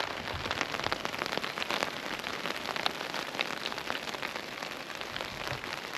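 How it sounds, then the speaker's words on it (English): Heavy rain pours down in a UK storm, a dense, continuous hiss of drops drumming on a surface, steady and fairly close with no voices. "It's absolutely chucking it down with rain"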